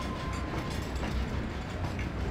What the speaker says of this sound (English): The train hasn't stopped since it set off.